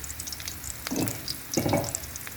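Bitter gourd (ampalaya) goes into hot oil, and two quick loud sizzling bursts rise over a faint background crackle.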